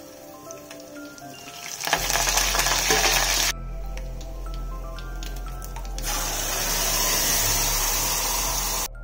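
A tempering of dried red chillies with ground tomato-coriander chutney sizzles in a pan, a bright hissing crackle that surges in bursts, drops away briefly, then resumes over a steady low hum.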